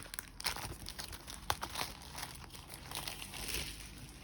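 Close, busy crinkling of plastic packaging as a Paper Pumpkin craft kit is unboxed, with quick irregular rustles and crackles throughout, no voices.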